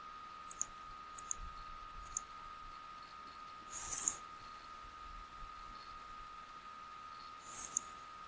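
Computer mouse clicking, a few light, sharp clicks spread out over a quiet background with a steady faint hum and a couple of slightly louder rustling bursts.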